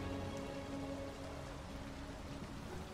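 Steady rain from the video game Detroit: Become Human falls as a dense, continuous hiss of drops on surfaces, holding an even level for the whole stretch with no talk over it.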